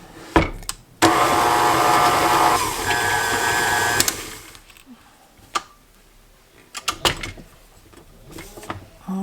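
An electric mixer whirs loudly as it creams shortening and butter with sugar for a black walnut pound cake, a steady motor drone that runs a few seconds then stops, followed by scattered clicks and bowl knocks.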